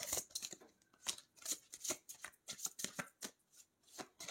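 Tarot cards shuffled by hand, a quiet series of crisp riffling bursts and soft slaps in an irregular rhythm, close and alone without talk.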